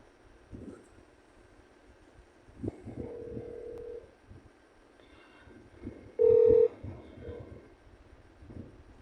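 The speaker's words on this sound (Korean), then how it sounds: "아 심심한데 겜놀님한테 전화나 해볼까" Telephone number being dialed on a phone, a few short tones sounding apart over a quiet background, one louder tone near the end.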